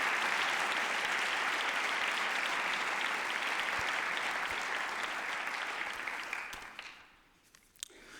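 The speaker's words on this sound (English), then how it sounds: "let us please once again give a round of applause for the young brothers and sisters of the Black Student Union" Audience applause at a university lecture honouring the Black Student Union, sustained dense clapping that fades out near the end, leaving a few scattered claps.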